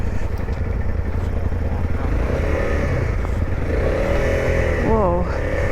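A motorcycle engine rumbles and revs up and down nearby, loud and continuous, with traffic noise around it.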